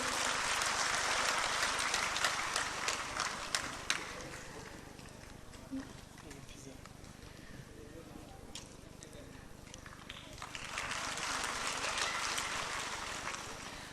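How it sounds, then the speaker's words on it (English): Applause from an audience at a student competition, scattered clapping that swells at the start and again near the end, fairly faint and distant, with voices talking during the quieter middle. "You need to clap for him."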